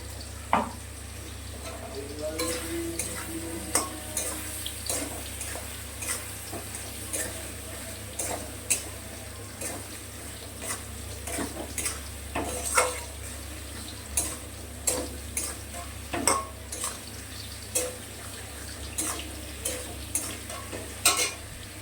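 Poppy seeds (posto) tossed into a frying pan with okra and stirred give a low, steady sizzle and a run of scraping, clicking stir strokes that repeat every second or so.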